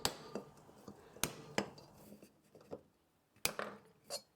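Punch and hammer blows driving an old bearing out of a bench grinder, sharp metallic strikes landing irregularly, a few loud hits among lighter taps, with quiet gaps between.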